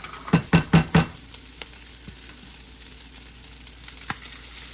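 Peppered onions and garlic sizzle in olive oil in a skillet over high heat, opening with four loud rhythmic stirring scrapes before settling into a steady close frying hiss, with no talk.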